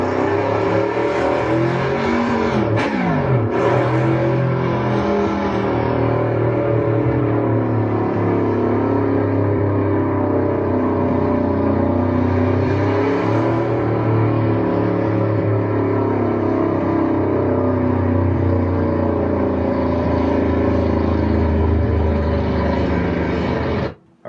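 A car engine revs and roars steadily up close for over twenty seconds, with a sharp pitch sweep early on, then cuts off abruptly.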